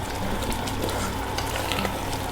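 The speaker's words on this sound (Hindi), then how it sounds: "और इसको अब ऑयल में अच्छे से भून लेंगे।" Mutton pieces frying in about five tablespoons of oil for bhuna gosht, a steady dense sizzle with faint stirring scrapes throughout, close and continuous with no talking.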